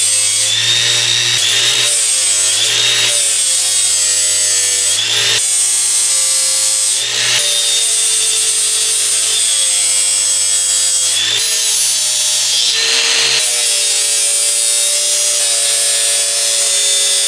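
A battery-powered Milwaukee tool with an abrasive bevels turbo manifold pipe pieces for a Mazda 323 GTX rallycross car, a loud close high whine grinding in repeated passes with brief pitch drops between strokes.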